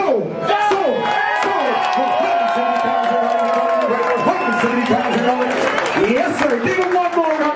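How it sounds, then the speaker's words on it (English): Auction crowd at Spring Carlisle applauding and cheering a sold 1977 Pontiac Trans Am, sustained clapping and whoops filling the room while an auctioneer talks loudly over it throughout. "Give him one more round of applause, ladies and gentlemen."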